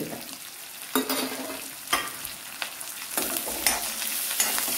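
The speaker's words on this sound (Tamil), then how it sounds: "தேங்காய் வந்து கொஞ்சம் நல்லா வதங்கணும்" Grated coconut and turmeric powder frying in a pan for Mangalore avalakki chivda, with a steady soft sizzle and a few sharp scraping strokes of a spoon stirring at regular intervals, close and alone with no talk.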